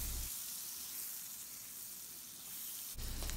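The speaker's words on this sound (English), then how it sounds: "you're going to take your butter and your onions, and you're going to saute these until the onions are all the way cooked and translucent" Butter and onions sautéing in a pan for chicken pot pie filling, a continuous even sizzle and hiss, ending in a short louder burst as something is disturbed near the end.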